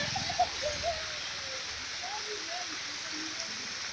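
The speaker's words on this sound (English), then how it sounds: "So this is our river where we normally fetch water." A village river flows with a steady, broad rushing hiss, with faint bird chirps scattered above it.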